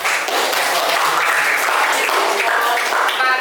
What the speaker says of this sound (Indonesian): terima kasih buat kelompok 2, tepuk tangan